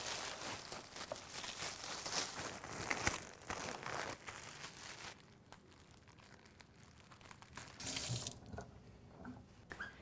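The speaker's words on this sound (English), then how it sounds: "Now I just washed my hands" Tap water runs over hands being washed at a kitchen sink, a steady splashing rush that eases halfway through, with crinkling of plastic bags nearby.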